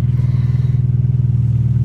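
A car with a modified exhaust idles nearby with a deep, pulsing, lumpy burble, its beat steady and rhythmic across a short stretch, no voices.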